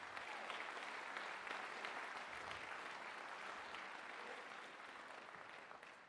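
Steady audience applause at a school winter band concert for middle and high school musicians, a dense continuous clatter of many hands that holds level for about six seconds before easing slightly at the end.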